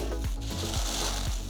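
Dry cornflakes crushed by hand, crisp crunching in a steady repeated rhythm, close and fairly loud with no talking.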